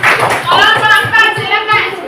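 A class claps hands together in a short burst of applause for a group, with children's voices and chatter prominent over the scattered claps.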